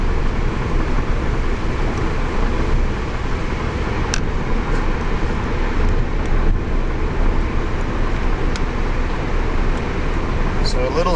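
A 2005 VW Jetta TDI diesel on a mixed city and highway drive gives a steady, loud in-cabin road and engine drone with constant tire rumble, unbroken for the whole stretch.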